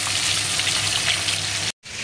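Fish frying in a pan after being turned over: a loud, continuous, close sizzle with a crackling, rain-like texture, cut off briefly by a short gap near the end and then resuming, no talking.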